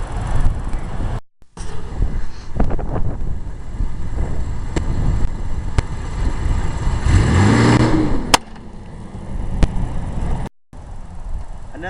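A car with a cup resting on its roof drives along while wind buffets the microphone and the engine rumbles close by, revving up to a rising whine before a sharp knock and brief dropouts.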